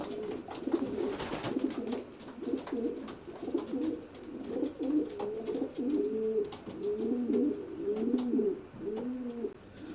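Racing pigeons, cocks in a roomy widowhood loft section, coo in repeated rolling phrases, fairly close and moderately loud, with overlapping calls continuing throughout and a brief rustle near the start.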